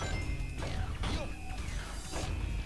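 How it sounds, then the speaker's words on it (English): Metallic crashes and clanks in Sonic Adventure 2 as metal containers are smashed, several hits in quick succession over a dense, busy background of effects. "We can now break the metal containers."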